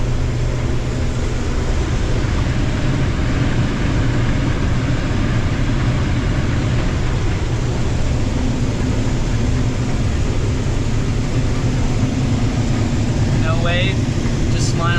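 A big 9230 farm tractor approaches across a field, its diesel engine droning as a steady, loud low rumble that fills the scene throughout.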